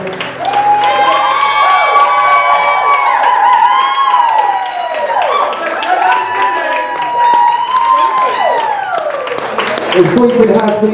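Wedding guests at a castle reception clap and cheer loudly together, with whoops and shouts over a sustained wall of applause and a voice speaking over it.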